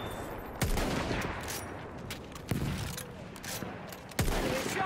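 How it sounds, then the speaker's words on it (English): Battlefield 1 battle gunfire: three heavy, sharp gun blasts spaced a couple of seconds apart over a constant noisy battlefield din, with faint crackling shots between them, no voices. "Machine gun! Over there!"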